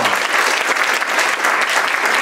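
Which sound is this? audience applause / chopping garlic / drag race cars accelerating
audience applause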